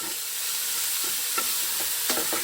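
Mussels are stirred in melted butter in a pan, giving a steady hiss with a few scraping clatters of utensil against the pan as they are turned.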